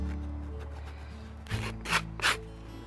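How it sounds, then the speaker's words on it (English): Scraping the bottom of a boot sole produces three short, close rasping scrapes in the second half, following a low hum, with no talk. "scrape off anything you can get off the bottom of the boot or the sole"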